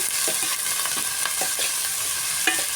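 Corn kernels fry steadily in a pan, a dense continuous sizzle broken by occasional stirring scrapes and soft pops, close up with no talking.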